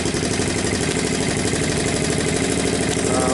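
A Honda ATC200M three-wheeler runs steadily through a makeshift homemade exhaust, giving a constant, fairly loud mid-pitched engine drone with no pauses or voices.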